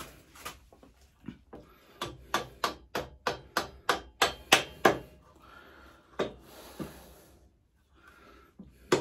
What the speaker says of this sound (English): Tap this through with rubber hammer.